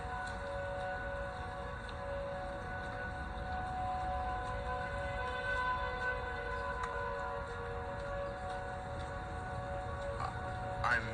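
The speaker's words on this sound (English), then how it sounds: "all the tornado sirens in my neighborhood accidentally harmonized." Several neighborhood tornado sirens wail together in a steady, sustained harmonized drone, distant and droning evenly for the whole stretch with no voices.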